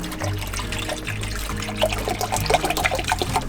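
Hot water poured and splashing for corn soup and coffee inside a camper van, a steady close liquid pour with bubbling trickles building toward the end.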